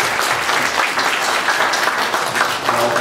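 A church congregation at a Baptist revival meeting in New Jersey applauds steadily, a dense, loud wash of clapping that continues without a break.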